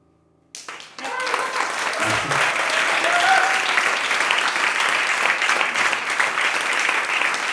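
Applause breaks out at a small living-room piano and voice concert, starting abruptly after a brief quiet moment and swelling into steady, dense clapping from a modest audience that holds for several seconds.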